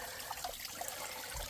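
Mountain spring water runs steadily in a continuous, moderately loud wash with a few small splashy bursts, with no voices over it.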